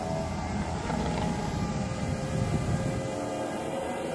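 A Cheerson CX-23 quadcopter drone descending to land outdoors, a steady broadband whirring drone of rotors, fairly loud and continuous throughout.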